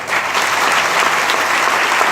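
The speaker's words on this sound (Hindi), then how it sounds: "मैंने कहा अच्छी ताली यीशु के लिए" Dense audience applause in an indoor gathering, a steady wall of clapping hands held at constant loudness from start to finish, close and full.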